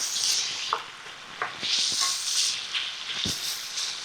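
Feta sausages browning in olive oil in a pan give off a steady close sizzle, with occasional sharp pops and the scrape of stirring running through it, no one speaking.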